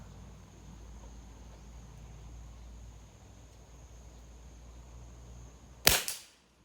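A single sharp shot from a CZ 457 .22 rimfire rifle fired at a target 25 meters away, loud and close near the end, with a brief ringing tail over quiet outdoor ambience.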